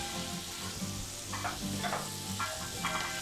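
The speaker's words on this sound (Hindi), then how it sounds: "अच्छे से इसको मिक्स करना है और चिकन भी हमें इसमें ऐड कर देना है" Mashed potato stirred into a chicken samosa stuffing in a hot pan gives a continuous sizzle with soft scraping and stirring strokes, close and steady.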